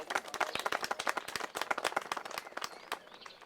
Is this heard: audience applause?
yes